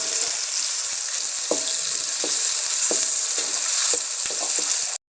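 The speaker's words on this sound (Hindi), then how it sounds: "अभी मैं प्याज को फ्राई कर लूँ।" Onions fry in hot oil in a pan for bhindi masala, a loud continuous sizzle broken by regular scraping strokes of a spoon stirring about once a second, cutting off abruptly.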